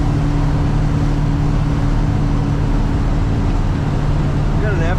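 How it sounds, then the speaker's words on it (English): Steady broadband wind rush from the quarter windows of a 1977 Chevrolet C10 Cheyenne shortbox pickup driving on a cold winter road, mixed with a constant low engine and road drone inside the cab. "It's got your typical wind noise from the quarter windows here."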